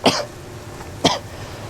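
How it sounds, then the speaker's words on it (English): Two sharp coughs from a person outdoors, about a second apart, fairly close and standing out clearly against a quiet background. "I just heard another cough."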